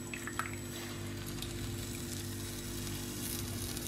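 Steady loud sizzle of chopped tomatoes hitting a hot pan of onion and spice, a continuous frying hiss with a few brief splashy crackles early on.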